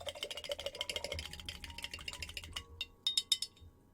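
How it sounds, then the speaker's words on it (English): A paintbrush is rinsed in a water cup, giving rapid small clinks and taps against the container, busy at first then sparser, close and fairly quiet. "Rinse my brush out."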